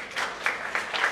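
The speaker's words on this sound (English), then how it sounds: "Again, round of applause for Team 6." Audience applause for a school team at a school quiz event, a brief spell of scattered claps with a few louder hand hits standing out, fairly close and without voices.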